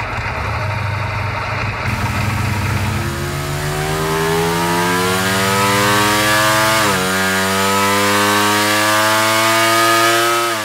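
A loud 2023 Ducati Panigale V4R motorcycle's V4 engine with twin pulse firing order revs up steadily with a rising, raspy growl, dips briefly, then climbs again, sustained and close.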